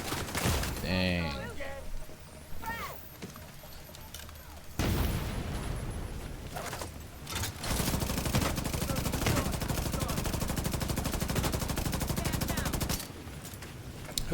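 A deployed turret in The Division 2 fires long, dense bursts of rapid gunfire, loud and continuous through most of the stretch, with other in-game shooting and effects layered in and someone talking over it.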